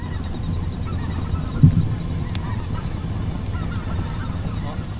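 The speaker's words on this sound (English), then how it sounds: "Specklebelly geese flying over." Specklebelly geese honking as they fly over a hunting camp in Gueydan, Louisiana, a single distinct call rising briefly above a soft outdoor background, fairly distant.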